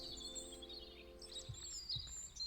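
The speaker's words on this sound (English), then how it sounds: "And we attracted more robins." Robins chirp in the video game Botany Manor, a run of bright, high tweets and short calls over a soft steady background, with two low thumps partway through.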